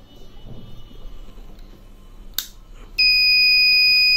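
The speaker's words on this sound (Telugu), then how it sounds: "ఆ గ్యాస్ డిటెక్ట్ అవ్వగానే మనకి బజర్ మోగడం చూసాము" A gas leak detector working model, its sensor triggered by gas from a lighter, sets off a loud, steady electronic buzzer that starts abruptly and holds after a short click and quiet background hiss.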